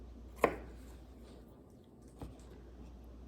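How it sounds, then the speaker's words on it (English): Knife chopping onion on a cutting board for taco salad, two separate crisp knocks, the first sharper and louder, the second softer nearly two seconds later, over quiet room tone. "you'll just cut straight down one way, then you'll rotate and cut straight the other way"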